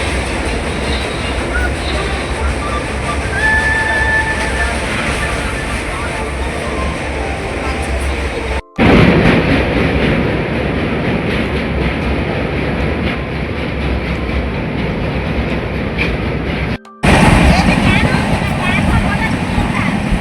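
A near-empty passenger train to Shirdi runs on the rails near Vijayawada, heard from inside as a loud continuous rumble with rattling and wheel noise, broken by two brief cuts.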